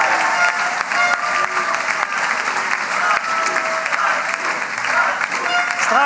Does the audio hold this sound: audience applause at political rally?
yes